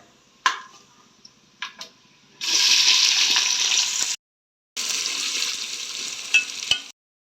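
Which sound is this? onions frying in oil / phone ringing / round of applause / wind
onions frying in oil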